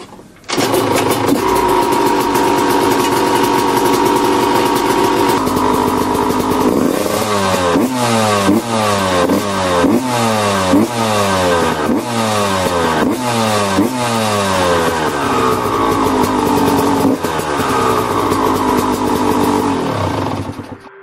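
A restored TM motorcycle engine idles with a steady buzzing drone, then is blipped through a long series of sharp rising and falling revs, loud and close, with no voices.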